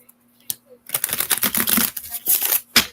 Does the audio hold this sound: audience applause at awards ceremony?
no